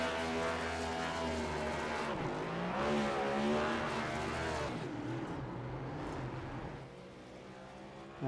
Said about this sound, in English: Plenty of room down in that area to do some burnouts.